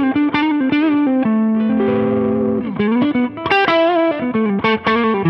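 Distorted electric guitar through an effects unit, played on the neck pickup for a creamier tone, with sustained chords and melodic phrases ringing loud and continuous, no talking.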